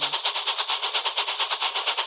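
A coal train on a rail line rushes along at speed with a steady rhythmic pulsing clatter, loud and close, with no voices.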